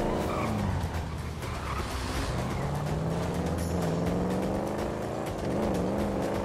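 Car engine revving and shifting pitch in GTA roleplay, with a steady loud drone and tire squeal throughout, no talking.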